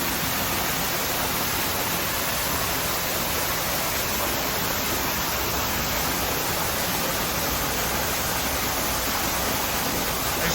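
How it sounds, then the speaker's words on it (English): A waterfall in a zoo's indoor Amazon rain forest exhibit pours with a dense, steady, loud rushing hiss that fills the whole stretch without a break and with no voices. "There's a waterfall."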